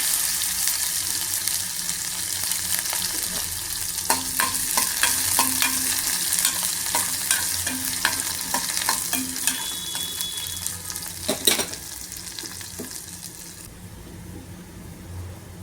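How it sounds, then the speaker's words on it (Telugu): Bitter gourd pieces fry in a hot tempering of asafoetida, dried red chillies, mustard seeds and cumin, giving a continuous loud sizzle broken by frequent scraping stirs of a spatula in the pan, with no talk. "కాకరకాయ ముక్కలు మొదట వేయించుకుందాము."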